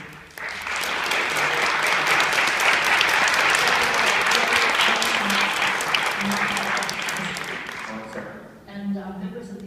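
Sustained audience applause at a public hearing on vaccine exemptions, loud and steady for most of the clip before thinning out near the end.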